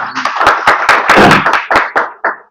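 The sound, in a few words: audience clapping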